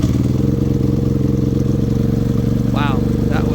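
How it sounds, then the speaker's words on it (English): A Predator 3500 generator fitted with a Grenergy kit runs steadily and close, its engine drone loud and even throughout, with a brief voice near the end. "Wow, that was pretty cool. Started right up. Sounds really nice."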